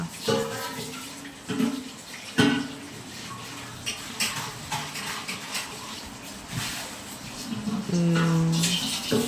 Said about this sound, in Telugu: బిందెలు కూడా కడిగేసుకుంటున్న పనిలో పని